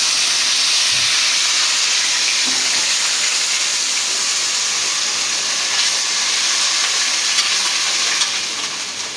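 Loud, steady sizzling and hissing from a hot pan of fried onion, potato and chilli as water hits it, continuous and close, with occasional faint stirring clicks.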